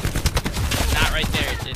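Rapid automatic fire from an AK assault rifle in the Fortnite video game, a loud, dense burst of repeated shots.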